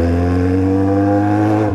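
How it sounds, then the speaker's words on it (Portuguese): A motorcycle engine passes close by, a loud, steady buzzing drone with strong harmonics that holds briefly and then drops in pitch as it goes past, with no voices. "Agora aparece uma moto, né, mano?"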